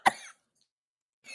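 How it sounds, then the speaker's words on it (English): A single sharp cough up close at the start, followed by silence and a faint breathy sound at the end. "It was a well-timed cough"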